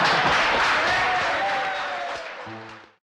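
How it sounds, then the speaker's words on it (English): Crowd applause breaking out after an interview answer, a broad burst of clapping that gradually thins and fades out over about three seconds. "You got a big pop from the crowd"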